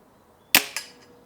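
A newly acquired gun fires two sharp shots about a quarter second apart, each a loud, crisp crack that quickly decays, in an otherwise quiet setting.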